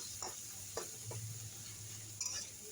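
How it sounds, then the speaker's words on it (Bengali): Small shrimp frying in a pan with turmeric and salt, a soft low sizzle punctuated by a few light stirring scrapes and clicks, quiet and close with no talking. "চিংড়ি মাছগুলোকে সামান্য হলুদ আর একটু লবণ দিয়ে ভেজে নিচ্ছি।"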